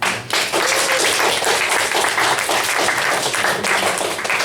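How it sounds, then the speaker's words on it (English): A small audience claps for performers at an informal show, a loud, close, continuous patter of hands that starts sharply and holds steady to the end. "Let's give them a clap."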